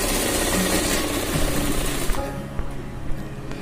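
Steady, loud mechanical whirring of a sewing machine stitching the sleeve seam of a kurti, running continuously before easing off into lighter clicks and taps near the end.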